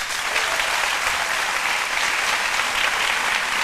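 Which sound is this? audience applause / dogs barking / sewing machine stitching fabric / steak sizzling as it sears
audience applause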